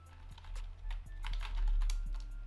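Typing on a computer keyboard while entering a command during a Windows 10 dual-boot setup, a quick run of close, crisp key clicks over a steady low hum.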